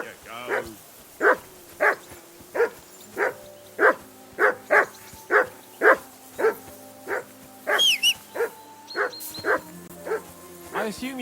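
A dog barks in a steady, repeated series inside the game Kingdom Come: Deliverance II, about a dozen loud, close barks at an even pace, with a higher call and other game sounds near the end.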